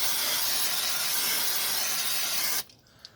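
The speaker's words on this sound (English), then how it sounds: "Spray brake cleaner on the back" Brake cleaner sprayed onto the back of an Opel/Vauxhall Astra drum brake, a loud continuous aerosol hiss lasting a few seconds before cutting off abruptly, leaving near silence with a small tap.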